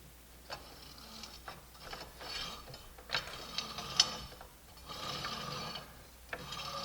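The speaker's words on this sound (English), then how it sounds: "I'll go ahead and loosen the blade slightly." A miter saw blade arbor being loosened by hand, giving close, quiet ratcheting and metallic mechanism clicks in irregular bursts with soft scraping between them.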